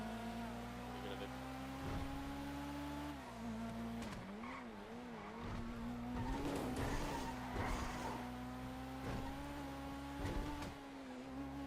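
A car skids and slides in GTA 5 with a steady engine drone, tires squealing in bursts, while a person talks over it.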